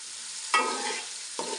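Chopped onion frying in a pan, stirred in two scraping strokes over a steady sizzle, close and clear, with no voices.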